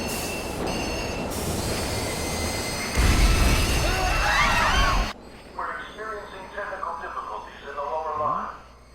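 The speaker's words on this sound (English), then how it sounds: "The inbound train will soon be arriving at platform number 1." A train pulls into a station platform in the video game Persona 5 Royal, with steady rumbling and squealing wheels under a platform announcement voice, then a quieter stretch with other voices speaking over faint background.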